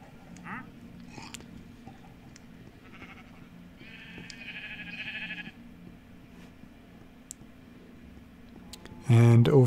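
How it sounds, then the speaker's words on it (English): Sheep bleating in the video game Minecraft, a few short bleats scattered over quiet ambient game sound, with a louder burst near the end, while a person talks softly throughout. "And here are the sheep."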